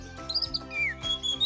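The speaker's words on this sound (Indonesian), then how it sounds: "Wah, itu suara burung." Small bird chirps, high thin tweets and a short whistled trill, sounding faintly over a low steady background hum.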